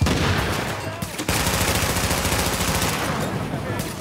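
Rapid automatic gunfire in Tom Clancy's The Division, loud, dense bursts of shots rattling almost continuously, with a short break near the start before the firing resumes.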